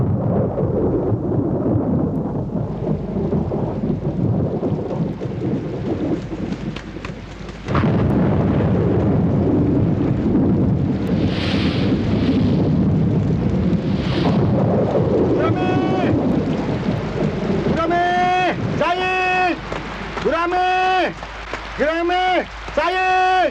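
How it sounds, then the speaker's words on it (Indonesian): Rain falls with thunder in the 1986 Indonesian film Bintang Kejora, a loud broad roar and deep booming crash, followed by several voices shouting excitedly over the downpour toward the end. "Hujan!"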